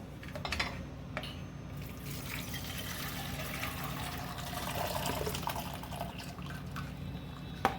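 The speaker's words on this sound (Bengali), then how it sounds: "একটা পাত্রে কড়াইতে ছেঁকে নেব।" Leftover vegetable stock for a mushroom soup is strained from a container into a pan, giving a steady, quiet trickle and splash of pouring liquid with occasional drips and clinks.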